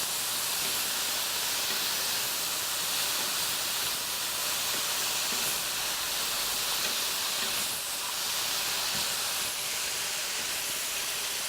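Spinach reducing in a pan on lowered heat gives a continuous, even hiss and soft bubbling, steady throughout with faint scattered ticks and no voices.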